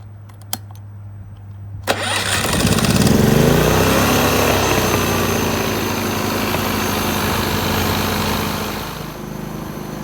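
A gas generator engine is pulled to start after a couple of clicks, then roars up and runs steadily at close range, a loud continuous mechanical drone that eases slightly toward the end.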